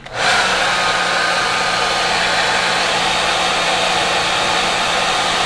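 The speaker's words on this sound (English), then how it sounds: "just press it in and then blow dry" A hair dryer blows steadily and loudly to set a pre-plucked bleached blonde lace wig, a continuous airy whoosh that starts abruptly and holds for several seconds with no talking.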